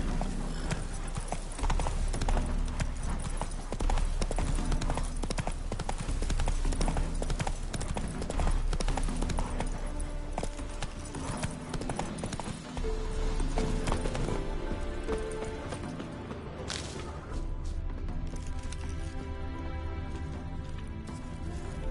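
Roach, the horse in The Witcher 3: Hearts of Stone, gallops hard with fast, loud, rhythmic hoofbeats, then slows toward the end amid a snort or whinny and some game ambience.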